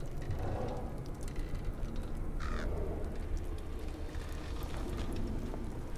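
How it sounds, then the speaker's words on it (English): A crow caws inside the video game Voices of the Round Table, one brief call rising partway through over a steady, dense bed of ambient game noise. "Where's that crow I'm hearing?"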